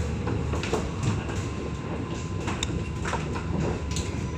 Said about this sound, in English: Tram's now approaching uh, Haymarket and then this tram will terminate at Central Chalmers Street.